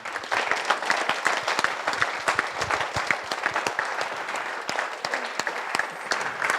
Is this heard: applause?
yes